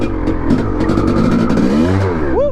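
Rebuilt 1989 Honda CR500R two-stroke dirt bike engine revving hard and close, a loud raspy roar that holds high and then drops away at the end.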